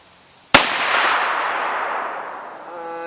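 A single sharp, loud report from a Howa rifle firing a 68 grain Hornady BTHP bullet, a sudden crack followed by a long, fading outdoor echo that rolls on for over two seconds.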